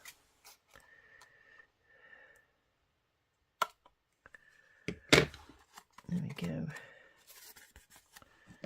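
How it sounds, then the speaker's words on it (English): Scissors snipping paper and vellum while making junk journal tags and decorations, a few short sharp cuts among rustling and handling noises, with brief talk in between. "So I'll have to cut that now with the scissors."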